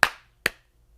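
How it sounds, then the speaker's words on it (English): Two sharp single hand claps, close and crisp, spaced about half a second apart with silence between. "Clap."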